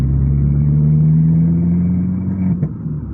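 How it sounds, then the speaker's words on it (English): An Abarth with a Monza exhaust pulls through third gear in comfort mode, its engine droning with a steady low hum and a rasping edge that eases and dips near the end, heard up close from inside the car with no talk. "It's starting to get that rasp from a Monza, which is so cool."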